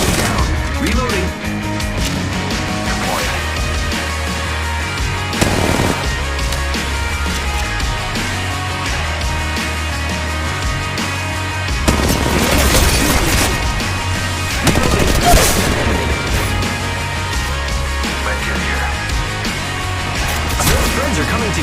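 Gunfire in the Apex Legends Mobile battle royale game around Skull Town: scattered bursts and sharp impact cracks over a dense, continuous game soundscape, some shots near and loud, others further off.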